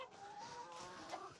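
Chickens cluck softly on a farm on Salt Spring Island, Canada: a brief, faint murmur of overlapping low clucks with a slightly noisy, close outdoor background.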